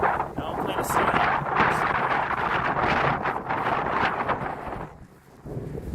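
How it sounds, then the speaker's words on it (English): Strong wind buffets the microphone on a cold night in Henry County, Georgia, with a loud, rumbling roar that barely lets up, dipping briefly near the end. "It's super windy, so there is going to be wind noise even if I use an external mic or not"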